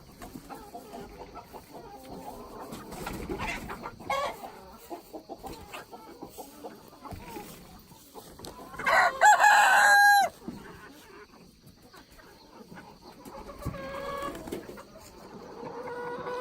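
Chickens in a movable pen with electric netting cluck softly and steadily, and a rooster crows once, loud and near, partway through.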